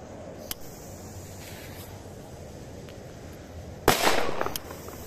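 Big Boom firecracker by PyroTop exploding outdoors in a single loud, sharp blast followed by a short rumbling tail, with a faint pop earlier and steady background hiss.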